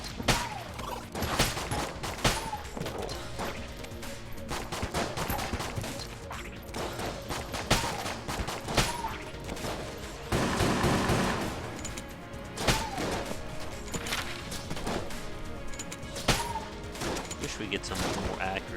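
Rapid bursts of gunfire from a gun in Enter the Gungeon ring out loud and close, with repeated volleys and a denser barrage midway over busy game sound.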